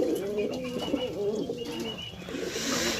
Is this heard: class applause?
no